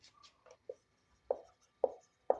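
Chalk or marker strokes on a board during a physics lesson, a string of short, sharp scratches and taps, close by and fairly quiet, with no voice over them.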